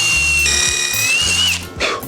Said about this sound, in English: an impact driver to bore a hole into a piece of plywood